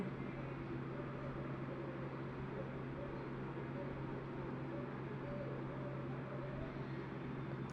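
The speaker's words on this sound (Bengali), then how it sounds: "নুন দিয়ে আমি মিক্সিতে বেটে নেব" An electric kitchen mixer grinds fried jackfruit seeds with salt into a paste, giving a steady, fairly quiet motor whir with an even hum and no breaks.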